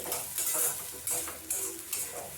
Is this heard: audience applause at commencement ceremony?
no